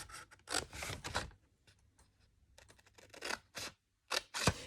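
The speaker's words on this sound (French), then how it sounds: "je vais simplement suivre les traits donc de mes marques de plis avec ma paire de ciseaux." Scissors snipping paper along fold marks while making a decorative box, a series of short crisp cuts in uneven bursts, close and fairly quiet with pauses between strokes.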